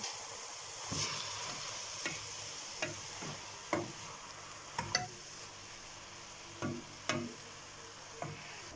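Onions, tomato paste and collard greens stirred in a pan for a Black Sea collard stew: a quiet bed of sizzle broken by about a dozen brief scrapes and knocks of the spoon at an irregular pace.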